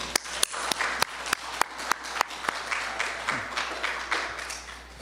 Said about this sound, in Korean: 다 같이 박수 한 번만.